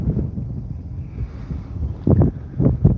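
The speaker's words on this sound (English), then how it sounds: "I'm sorry about the wind is blowing out here just so hard" Strong wind gusts buffet the microphone outdoors during a Texas storm chase near supercells, a low roaring rumble with heavier bursts near the end, close and loud, with no talking.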